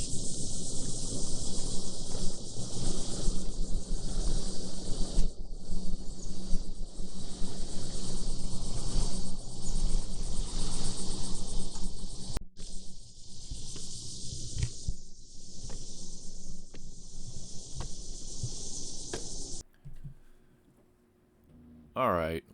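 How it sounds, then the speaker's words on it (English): Cicadas buzz loud and steady on the roof of an RV, a dense high drone that fills nearly the whole stretch with brief dips, then drops away near the end into quiet. "once I got on the roof, the cicadas were deafening."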